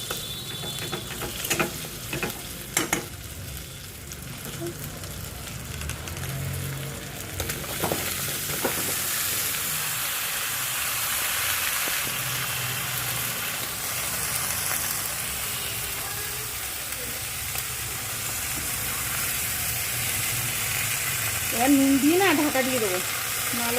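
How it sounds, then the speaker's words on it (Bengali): Spices for a hilsa fish curry fry in a pan, a continuous sizzle with a few sharp clattering stirs early on, close and moderately loud, ending with a brief rise in frying noise. "সব মশলা দেওয়া হয়ে গেছে এবার ভালো করে কষিয়ে তারপরে দিয়ে দেবো তিন শাক"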